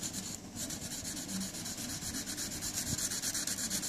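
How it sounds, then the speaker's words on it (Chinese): A watch case is worked with wet waterproof sandpaper, giving a steady, close gritty rubbing that runs continuously with an even back-and-forth texture and no voices. "將佢咧揾個水磨砂紙磨翻光滑之後咧"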